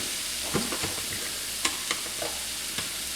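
Shredded beef mixture frying in a pan, a steady sizzle with a few scattered scrapes and clinks of stirring.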